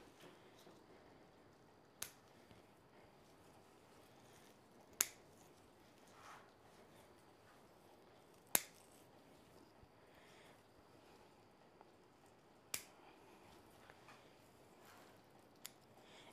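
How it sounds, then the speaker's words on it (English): Pruning shears cutting back lemon cypress branches, five or six sharp, separate snips spaced a few seconds apart over a quiet, faintly rustling background. "And so I'll just cut all of this back."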